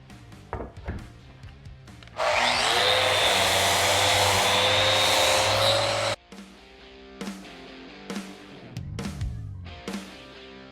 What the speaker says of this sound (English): So now I'll go back through and really detail sand it, make sure that there is no sand swirl in it